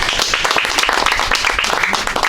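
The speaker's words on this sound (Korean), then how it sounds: "박수로 맞이해주십시오." Dense, steady applause from a large audience welcoming the chairman at a Syngman Rhee Day meeting, continuous and close throughout with no pauses.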